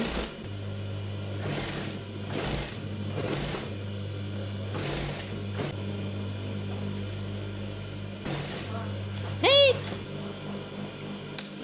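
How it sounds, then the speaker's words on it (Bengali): A sewing machine stitches the side seams of a baby top in steady whirring runs broken by short pauses, with a brief high squeak near the end and someone talking at times. "আমি সাইড দিয়ে ফিটের মাপে দেখুন সেলাই করে নিব"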